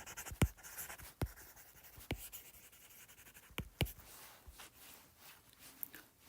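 An equation written by hand for a physics lesson, with sharp taps and quick scratchy strokes arriving in an irregular rhythm, fairly close and alone without speech.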